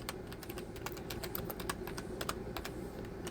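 Keys clack on a computer keyboard in quick irregular bursts, fairly faint against a steady background hum, with no voice.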